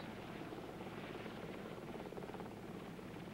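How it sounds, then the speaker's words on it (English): Official White House helicopter flying near an airport along the Potomac River, a steady loud rotor and engine roar that holds level throughout with no talk. "he is met at a nearby airport by the official White House helicopter and ferried along the Potomac River"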